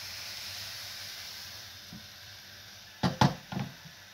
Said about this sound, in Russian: Итак, жарим все блины.